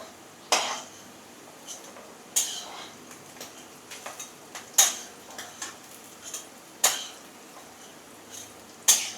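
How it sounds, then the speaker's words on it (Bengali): Fried bitter gourd is lifted out of a cooking pan, giving sharp metallic clinks and scrapes of utensil on pan at irregular intervals of a second or two, close and fairly quiet, with no talk. "এবার উচ্ছেটা ভাজা হয়ে গেছে"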